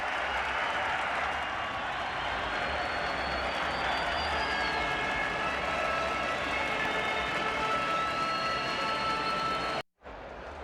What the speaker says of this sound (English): he'll get a nice hand as he leaves